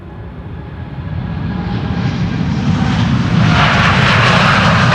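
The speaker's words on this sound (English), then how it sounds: "DC-3 Dakota, the 79-year-old, going for tour flights over the Flower Strip." A 79-year-old DC-3 Dakota propeller airliner taking off at Schiphol Airport for a tour flight, its piston engines droning steadily and swelling louder and closer over the span.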